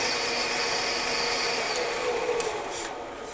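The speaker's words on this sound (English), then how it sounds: "I turn the lathe way up and then back down" A wood lathe spins up to high speed and back down, with a steady broadband whir and faint rising and falling tones, close by and alone with no talk.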